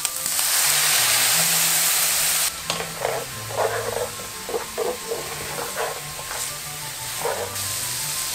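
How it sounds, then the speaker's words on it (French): Loud, steady sizzling from a hot pan with lardons deglazed with white wine, breaking into bursts of bubbling and crackling as the liquid hits, close and without talk. "je vais déglacer avec le vin blanc"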